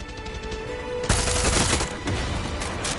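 Heavy gunfire in the video game Far Cry 6 erupts after a quiet moment, a sustained loud burst of rapid automatic shots and booms that fills the rest of the stretch.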